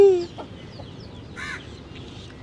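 A chicken gives a brief squawk at the start, then a single short nasal cluck follows about a second later, close by, against a quiet background.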